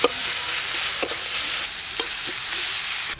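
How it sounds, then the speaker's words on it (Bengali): Chopped onion fries in oil seasoned with kalo jeere and dried red chilli, giving a loud, steady close-up sizzle with a few stirring scrapes and no talking. "পেঁয়াজ কুচিগুলো একটু ভাজা ভাজা হয়ে গেছে"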